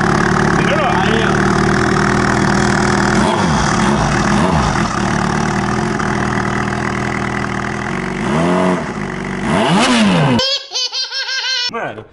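Four-cylinder Yamaha XJ motorcycle idling with rubber chickens stuffed in the exhaust, giving loud squeaky whistles and squeals over a steady engine drone close up, ending in short whistling bursts.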